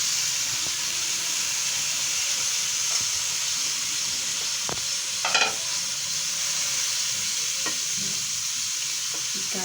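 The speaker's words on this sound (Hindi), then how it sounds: "ये 2 मिनट भुनने के बाद अब इसे डालेंगे गोभी।" Samosa filling frying and being stirred in a pan before cabbage goes in, a steady sizzle and hiss throughout with a few scrapes and clinks of the spoon, close and alone.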